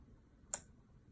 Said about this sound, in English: If I press the send, you can see the LED screen and the relay clicking.